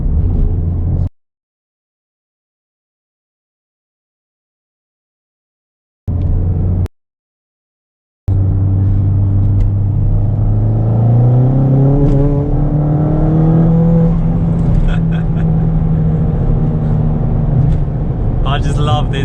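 A Ford Fiesta ST200 engine rumbles loudly inside a tunnel, dropping out twice before rising again as the driver accelerates, revs climbing and echoing heavily.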